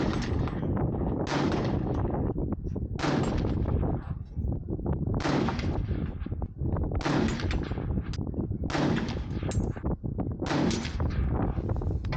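A Remington 721 rifle fires ELDM ammunition outdoors, a series of about six loud, sharp shots spaced a second or two apart, each followed by a ringing echo.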